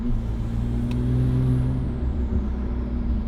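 A rebuilt stock Porsche 911 Turbo drives a short test loop, its engine giving a steady, fairly close drone with a mild swell in the middle and no voices.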